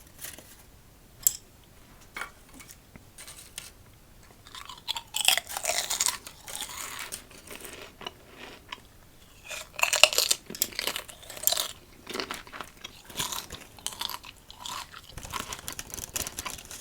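Crunchy Dill Pickle Lays potato chips are chewed close to the microphone, with quiet, irregular crisp crunches and bites that come in clusters, with no talking.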